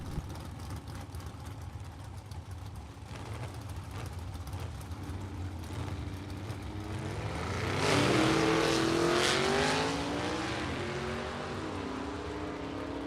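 Vintage drag race cars, a Rambler American and a Willys, launch at a drag strip: engines idle and rumble, then a loud rising roar as both cars accelerate away and the sound fades off.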